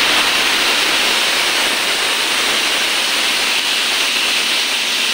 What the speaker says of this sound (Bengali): আমি টমেটো আর কামরাঙ্গাটি ঢেলে দেব।